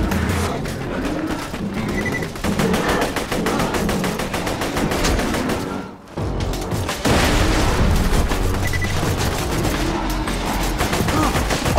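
Dense bursts of automatic gunfire from Borderlands 2 rattle almost continuously, loud and close, with a brief lull midway before the rapid shots resume at full intensity.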